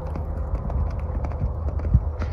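Horse hooves clip-clop in a steady rhythm over a low rumbling background, with a slightly heavier thud near the end.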